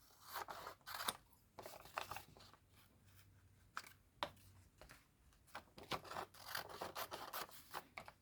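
Scissors cut paper for a journal pocket, giving close, crisp snips and rustling rasps in irregular bursts, some single, some in quick runs, with no talk over them.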